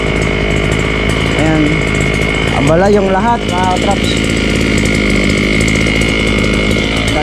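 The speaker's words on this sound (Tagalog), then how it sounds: "pinainit ko lang sandali yung grass cutter at tayo ay mag-grass cutter na doon" A gas-powered brush cutter (grass cutter) engine runs steadily while warming up, with a constant close buzzing drone throughout and someone talking over it.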